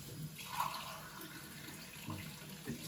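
Hot water runs from a tap into a sink, a faint steady splashing flow with a few soft bumps, quiet and close, no voices.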